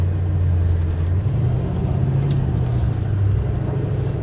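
An off-road vehicle in high range climbs a steep, rutted wilderness trail, its engine droning loud and steady with a low rumbling tone throughout.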